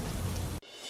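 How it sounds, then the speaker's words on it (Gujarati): Heavy downpour in a village under dark clouds, a dense loud roar of rain that cuts off abruptly partway through, leaving a fainter hiss. "મહુવાના ગ્રામ્ય પંથકમાં કાળા ડિબાંગ વાદળો સાથે ખાબક્યો ધોધમાર વરસાદ"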